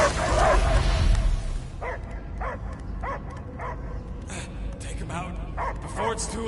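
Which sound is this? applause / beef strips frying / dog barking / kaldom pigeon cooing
dog barking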